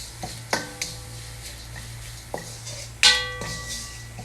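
Prawn roast masala with Kashmiri chili powder being sautéed in a pan, a few sharp metallic knocks and clinks of a utensil against the pan over a low steady hum, spaced irregularly with one louder clank.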